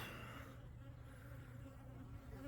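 Bees from a backyard hive where the eggs have been found buzz steadily and close by, a continuous low drone that lasts the whole moment with no talking over it.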